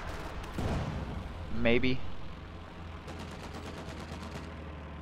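An aircraft makes an anti-tank strafing run on a pack howitzer in a World War II strategy game, a rapid rattling burst of cannon fire near the end following a brief whining sweep, with someone talking over it.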